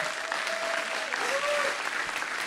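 A church congregation applauds steadily for the whole stretch, a dense, even patter of many hands clapping, with faint voices and a few cheers mixed in underneath.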